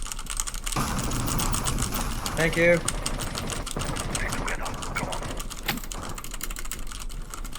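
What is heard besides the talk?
computer keyboard clicks recorded on Blue Snowball ICE mic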